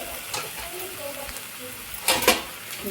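A spoon stirs a basundi-puri dish mixture in a pan, topped with finely chopped coriander. Soft scraping and light clinks repeat near and steady, rising to a brief louder scrape near the end, with no talk.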